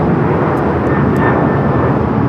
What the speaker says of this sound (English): Alaska Airlines 437 taking off to Puerto Vallarta on the 737-900ER